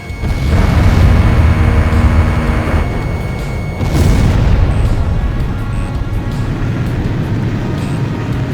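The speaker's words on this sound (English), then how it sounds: "Fox 2, Fox 2! Missile hit." Missile strike and explosion in the jet combat game Ace Combat 5: a loud, dense booming blast with a second heavy burst midway, rumbling on under sustained roaring noise, no talk.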